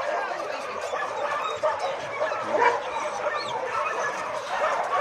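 Dogs at an animal shelter barking, yipping and whimpering together in a busy overlapping chorus, some near and some farther off, at moderate loudness throughout.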